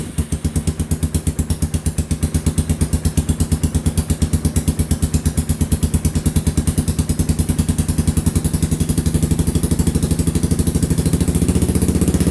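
A Yamaha Kodiak 450 ATV engine idles steadily with no throttle, a loud, even, rapid mechanical putter heard up close throughout.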